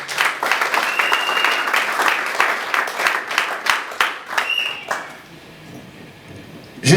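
Church congregation applauding and cheering during a worship service, dense sustained clapping for about five seconds before fading out into quiet, with a brief burst at the very end.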